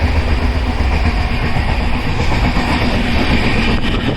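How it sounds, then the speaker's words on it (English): Sleeper class train running at speed on the Chennai to Mumbai line, a loud continuous rumble and rattle of the carriage with steady wheel noise and hiss filling the whole stretch, no voices. "Now the train has picked up the speed."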